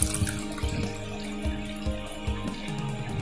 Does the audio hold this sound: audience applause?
no